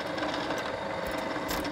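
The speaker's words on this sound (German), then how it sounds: "Belastungsprobe gegen Reißverschlussärger." A laboratory machine load-testing a zipper, a steady, loud, fast mechanical whirring and rattling with a continuous rhythmic drive and light ticking on top, heard alone.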